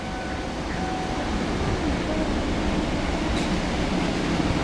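A passing train, a full rake of carriages in the latest livery on a line across the Fens toward Ipswich, makes a steady, loud, unbroken rumble and roar for the whole stretch, with no clear voices.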